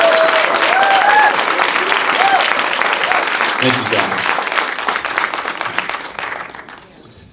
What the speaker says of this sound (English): let's give these men and women the respect that they need, they deserve, by a strong round of applause